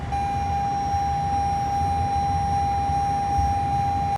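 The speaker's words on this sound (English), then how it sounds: "if I start driving without the seatbelt on, like if my passenger hasn't buckled within like 5 seconds, it starts beeping like crazy at me" A base model Toyota Camry's seatbelt warning sounds as a steady, unbroken electronic tone held at constant pitch throughout, over low cabin road rumble, with no talking.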